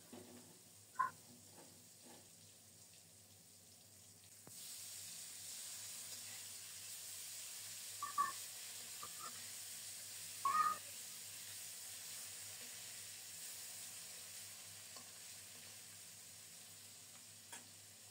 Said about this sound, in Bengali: উল্টে পাল্টে মাছের পিসগুলো খুব সুন্দর মতো ভেজে নিলাম।